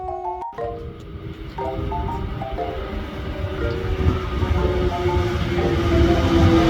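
A train rolls along the rails with a steady rumbling and rattling, heard from inside a carriage, a brief clunk near the start and faint tones above.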